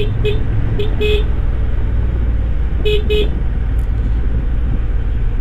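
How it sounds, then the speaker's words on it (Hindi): Several short horn toots from a Honda CB750 Hornet motorcycle on a mountain road, two quick pairs then another pair, sounding over a steady loud engine and road rumble. "मोड़ पे तो हॉर्न मार दो"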